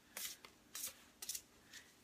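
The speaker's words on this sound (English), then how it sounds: "So I just kind of shuffle until I feel guided to stop." A deck of tarot cards is shuffled by hand in four short, soft riffling bursts, close and quiet, with brief pauses between them and no voices.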